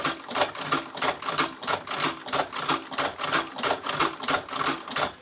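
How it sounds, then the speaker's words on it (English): An Outlaw leather sewing machine stitches around a leather knife sheath, hammering out a fast, even, rhythmic clatter of repeated stitch strokes, loud and close, with no talking. "now we can continue to sew around the piece"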